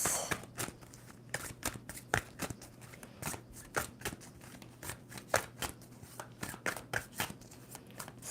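A tarot deck shuffled by hand in a quiet room, giving a steady series of crisp riffling and tapping card clicks, soft and close, with a faint low hum beneath.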